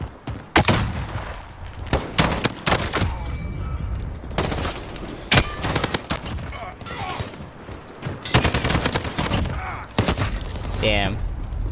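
M16A4 rifle fire in Call of Duty Modern Warfare comes as repeated loud bursts of gunshots with separate single cracks between them, sharp and close, with someone talking over the fire in places.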